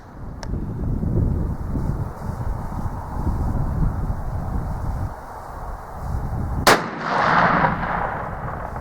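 A single sharp shot from a T/C Impact muzzleloader rifle cracks out near the end over steady wind noise, followed by a brief rumbling tail.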